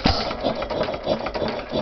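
An antique Sparta Economy Model B hit-and-miss engine of about four horsepower, built around 1909, runs nearby with a quick, steady mechanical clatter of repeating beats throughout the short stretch.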